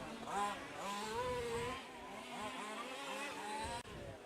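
Four-wheel-drive 1/5 scale RC short course trucks on track during a practice session, small engines buzzing and revving in overlapping rising and falling whines from a distance.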